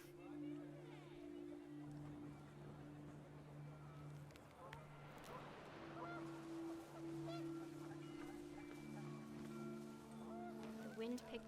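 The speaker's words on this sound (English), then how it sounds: "The wind picked up, and panicked geese appeared and quickly went." Panicked geese honking in What Remains of Edith Finch, a flurry of calls under a windy outdoor backdrop with steady low tones, fairly faint.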